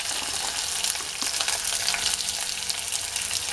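Chopped onions fry in hot oil with a dense, continuous crackling sizzle. The sound is close and fairly loud, with small popping spikes throughout, and there is no speech.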